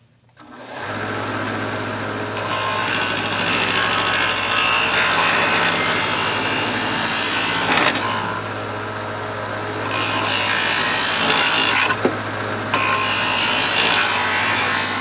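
An electric sander, bought for under $100, works on wood in a workshop with a loud steady whirring drone that pauses briefly twice and then resumes, and no talking.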